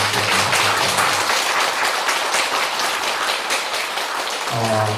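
Steady, full applause fills a temple hall as the congregation claps for the Buddhist TV staff, a dense continuous roar of hands lasting several seconds with a faint voice returning at the end.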